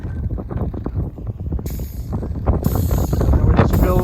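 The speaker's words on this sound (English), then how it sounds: "Oh man, it's windy." Strong gusts buffet the microphone outdoors by a John Deere 8RX 410 tractor in loud, low rumbling bursts that keep building, with a faint voice briefly audible under the wind noise.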